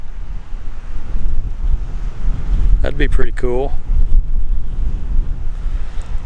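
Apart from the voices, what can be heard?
strong wind blowing by the Colorado River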